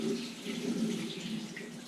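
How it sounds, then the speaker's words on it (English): Tap water runs into the outer slide section of a trombone being cleaned, a steady, fairly quiet stream with a constant rushing and gurgling tone for the whole stretch. "I'm now going to fill this outer slide section."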